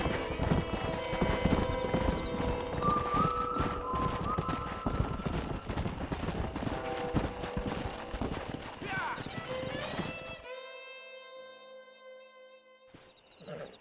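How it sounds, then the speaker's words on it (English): Horse hooves clip-clop at a steady trot in the Red Dead Redemption video game, close and rhythmic beneath a brief neigh and game sounds, ending abruptly before a quieter tail of music. "We got some fine horses."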